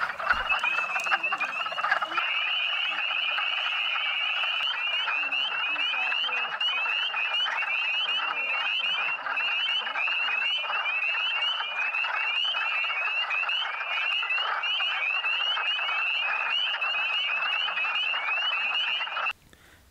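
Wood frogs call in a dense, continuous chorus at a vernal pool during spring breeding, a loud clucking, duck-like croaking that runs steadily with no pauses.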